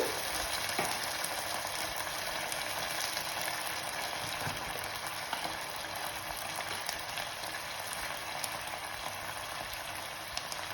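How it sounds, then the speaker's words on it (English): Water is poured into a hot pan for jeera rice, giving a steady, dense sizzling and bubbling hiss that runs evenly and without a break at moderate volume. "Now I put in my water."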